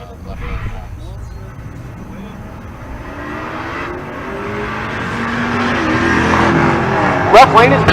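Drag racing at Pueblo, Colorado, with a 1993 Mustang in the left lane and a G-Body Monte Carlo in the right, engines building steadily louder toward a sharp burst near the end over crowd and PA noise.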